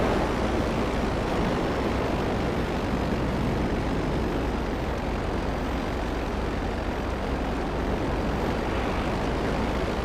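Aircraft engine in GTA Online drones steadily for the whole stretch, a constant broadband roar with no breaks and no voices.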